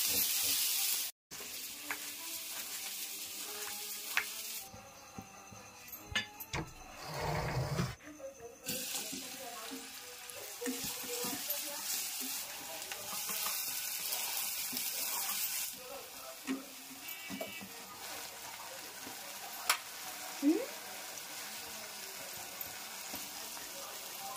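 Onion frying in a pan in a home kitchen, a steady broadband sizzle with intermittent scraping of stirring, plus a brief burst of running tap water partway through; voices are faintly heard.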